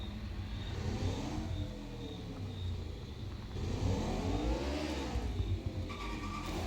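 A car engine in the racing video game The Crew Motorfest revs steadily and loudly, its pitch sweeping up and down in two long surges, with no talking over it.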